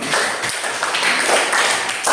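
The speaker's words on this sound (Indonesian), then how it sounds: "Terima kasih, bagus. Tepuk tangan." Pupils in a classroom give a short round of hand clapping, steady and close, filling the moment with no voices on top.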